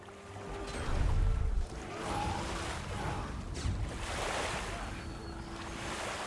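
Loud surf and sloshing waves in Guild Wars 2 roll on continuously, with a deep thump near the start and a voice talking over the water.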